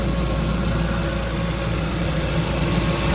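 Steady idle of a 1.8T BAM engine in an Audi TT MK1 after a coolant pipe replacement, heard up close as an even rumbling tick-over with fine rhythmic pulsing, no voices.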